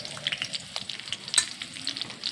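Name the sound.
garlic, curry leaves and turmeric sizzling in oil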